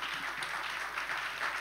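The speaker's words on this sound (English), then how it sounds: "I'd like to ask for a round of applause for our esteemed panelists." Audience applause for panelists at a startup founders' panel on recent economic events: a steady, dense wash of clapping from a crowd that holds at an even level for the whole stretch, with no voices over it.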